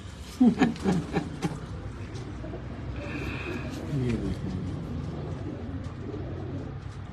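Pigeons cooing on a rooftop loft, soft low calls near and fairly faint, with a few sharper bird sounds early on and people talking at the same time.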